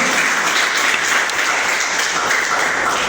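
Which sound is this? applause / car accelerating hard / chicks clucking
applause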